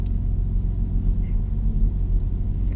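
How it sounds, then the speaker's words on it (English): An Audi R8 engine idles on an icy road in Austria, a steady low rumble with a faint, even hum and no revving. "just fired up the R8 as well."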